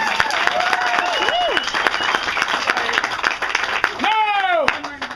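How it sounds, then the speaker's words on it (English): An audience at a Renaissance faire show claps in a continuous mid-level patter while a performer's voice with pitch swoops carries over it. "Give yourselves applause!"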